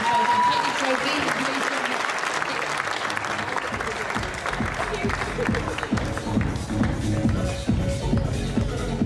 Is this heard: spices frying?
no